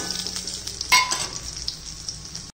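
Sliced pieces and nuts stir-fried in a pan for lapsi: a steady, close sizzle with light scraping and one brief clatter, ending abruptly.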